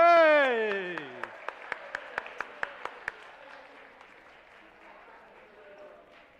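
Applause from the audience at a church Sunday school summer camp: after a brief voice, about a dozen sharp, evenly spaced claps ring out close by, then fade into a softer, scattered murmur of crowd noise.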